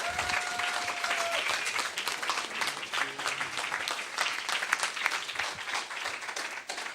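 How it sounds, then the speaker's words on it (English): A church congregation claps at a Sunday service, steady dense applause sustained throughout, loud and close with no talking over it. "Let's give them another round of applause."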